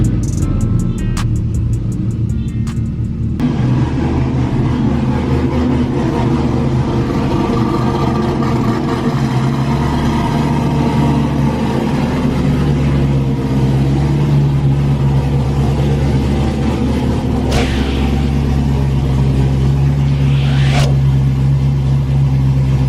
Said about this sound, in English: Let's go ahead and bring the Corvette in the garage and let's get started.